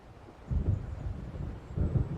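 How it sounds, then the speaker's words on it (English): Low thunder from an approaching storm in the Alan Wake video game rolls in two muffled swells, with a steady windy hiss between them and no voices. "It seems there's a storm coming."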